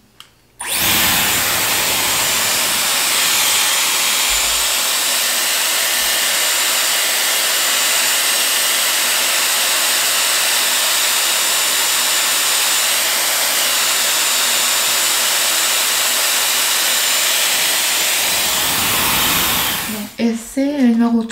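A Dyson Airwrap hair styler blows on damp hair with a loud, steady high-pitched whoosh that holds for nearly twenty seconds before switching off, with a brief voice at the very end.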